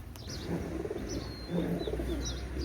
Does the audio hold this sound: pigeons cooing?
yes